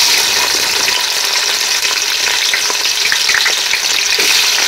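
Chopped onion hitting a hot pan with cabbage, beef and a little jalapeno, setting off a steady, loud sizzle and crackle of frying with some stirring scrapes, and no talk over it.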